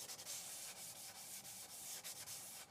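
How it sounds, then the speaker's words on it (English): Quiet, close rasping strokes of sandpaper rub back and forth along the grain of wood between brushed finish coats, in a steady rhythm. "give a few wipes in the direction of the grain between every coat"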